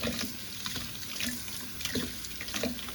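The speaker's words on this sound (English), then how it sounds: "Run some water over them" Tap water running over small plastic model kit parts for a Tamiya 2005 Honda Epson NSX GT500, a steady close splashing hiss into a sink with slight fluctuations as the pieces are rinsed, no talk.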